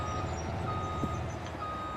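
A vehicle's reversing alarm in Farming Simulator 25 beeps faintly at a steady pitch over a continuous engine rumble, with no talking.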